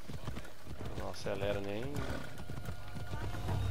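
Horse hooves clip-clopping at a slow, unhurried pace in the ancient Greek world of Assassin's Creed Odyssey, with a horse whinnying partway through, all under steady speech.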